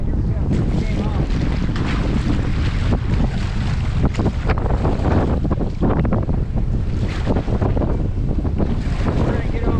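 Strong wind buffets the microphone in a steady, loud roar while a raft is paddled across a lake, with faint splashing of water beneath the continuous gusting.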